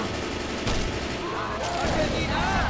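Gunfire from Left 4 Dead 2, sustained and fairly loud, keeping up across the whole stretch with other game noise and a voice talking in the mix.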